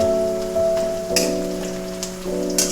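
Cumin seeds and bay leaves sizzle loudly in hot oil with fried onions for a yogurt chicken curry. The frying hiss is steady and close, with occasional crackling pops and no talking.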